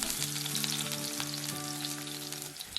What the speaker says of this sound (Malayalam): 2 പച്ചമുളക് ചോപ്പ് ചെയ്തതും ചേർത്ത് ഒരു 10 സെക്കൻഡ് നേരം ഇളക്കുക.